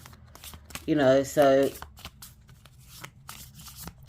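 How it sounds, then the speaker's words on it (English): A mass-market oracle deck is shuffled by hand, crisp riffling and papery card noise close by, with a short spoken word and brief voiced sounds over it. "So let's just give these cards a bit of a shuffle."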